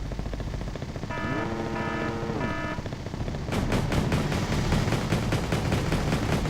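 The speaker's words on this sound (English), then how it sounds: "Four 20mm cannons. Makes sure work of any Hind." Rapid bursts of 20mm autocannon fire in the Wargame strategy game, a loud dense rattle of repeated shots kicking in midway and continuing steadily over a droning background, with a brief rising tonal sweep just before.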